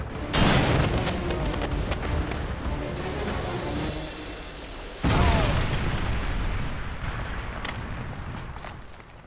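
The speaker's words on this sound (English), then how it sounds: "Predator missile inbound." Two heavy, booming blasts of a Predator missile strike in Call of Duty Modern Warfare 2, each hitting hard and then rumbling away over several seconds amid gunfire-like crackle.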